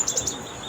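A small bird in a village gives three quick, high chirps in a rapid run at the start, fairly close outdoors, then quiet ambience follows.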